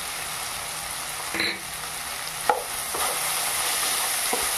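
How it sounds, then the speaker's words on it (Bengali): Turmeric powder being stirred into frying greens in a pan, a steady sizzle broken by a few sharp scrapes and knocks of the spatula. "আবার একটু নেড়ে চেড়ে নিলাম।"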